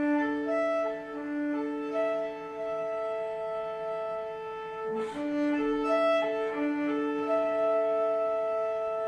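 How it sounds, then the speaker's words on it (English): Soft accompaniment for a Czech lullaby, gently rocking back and forth among three notes in a steady sustained pattern, quiet and alone, with a brief noisy bump partway through. "I'm just gently rocking back and forth between three notes."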